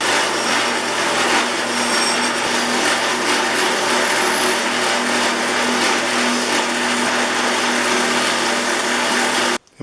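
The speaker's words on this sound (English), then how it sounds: "The next step is to take it over to the wire wheel and get the surfaces I can with that." A motor-driven wire wheel scrubs rust and grime off the parts of an old Stanley No. 78W weather stripping plane, a loud steady whirring hiss that runs without break before cutting off abruptly at the end.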